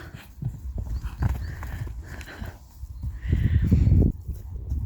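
Horse hooves clop and shuffle nearby in irregular bursts, with a few snorting breaths and stamping, louder toward the end.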